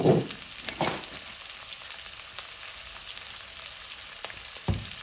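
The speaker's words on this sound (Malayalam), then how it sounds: "അപ്പോൾ വഴണ്ട് വരട്ടെ." Ingredients for a prawn curry sautéing in a pan, with a steady, close hiss and crackle of frying broken by a few louder stirring scrapes.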